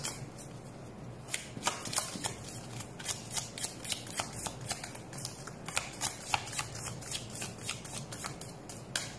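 Tarot cards shuffled close by in a steady run of crisp riffling and flicking bursts, repeating rhythmically for several seconds, with no talk over them.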